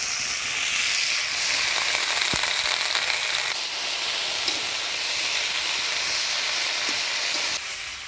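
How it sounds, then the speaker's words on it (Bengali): Young gourd leaves stirred into a frying bata fish curry in a Bengali village kitchen give a steady, loud oily sizzle and hiss with a few faint scrapes, no voices. "লাউয়ের পাতাগুলা দিয়ে ভালো করে নাড়াচাড়া করে নিলাম।"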